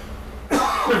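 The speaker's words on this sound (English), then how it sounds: "didn't have to cough until the show started." A single harsh cough bursts out close to the microphone after a quiet moment, with a rough throaty rasp trailing off.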